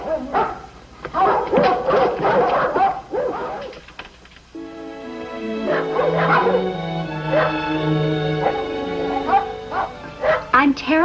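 Dogs in a rural household yip, bark and whimper in a rapid, agitated run, then let out a long howl-like whine, close and loud over a low hum.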